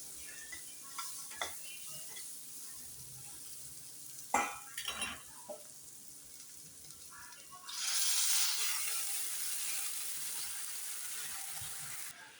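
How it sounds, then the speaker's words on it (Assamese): Green papaya curry is stirred in a pan: sparse scrapes and clinks of a utensil, then a loud steady sizzle that rises and holds as liquid hits the hot pan, close by with no talking. "ভালকৈ মিলাই ল'ম এনেকৈ।"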